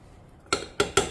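Utensil clinks against a bowl three or four times in quick succession while cornstarch is mixed in, after a quiet start; close and crisp, with no talking.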